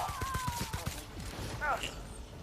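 Rapid bursts of gunfire from the video game The Outer Worlds, a quick volley of shots up close that then trails off, with no talking.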